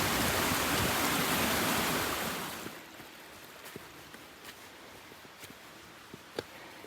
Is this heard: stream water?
yes